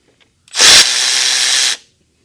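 A power tool removes the 12mm nut on the starter B plus terminal of a 2008-2012 Kia Sedona, making a single loud, close whir that lasts just over a second, starting with a sharp burst and then stopping cleanly.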